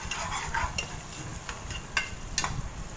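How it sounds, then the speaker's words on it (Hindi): Chopped onion with ginger-garlic paste fries in ghee in a pan, giving a quiet steady sizzle with a few light scrapes and clicks from a spoon stirring, heard close and with no talking. "मैंने एक बड़ा खाने का चम्मच घी और एक बड़ा कटा हुआ प्याज गरम घी में डाल दिया है।"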